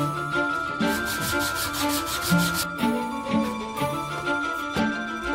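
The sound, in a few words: sanding wooden furniture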